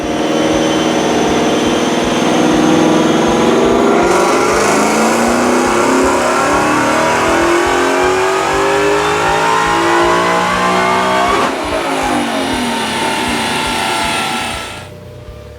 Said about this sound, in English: we're going to do it back to back on the dyno. So first, let's see what it makes on the Whipple tune